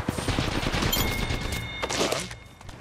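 Rapid automatic gunfire in the video game Apex Legends, a dense close burst of shots lasting most of the moment before tapering off.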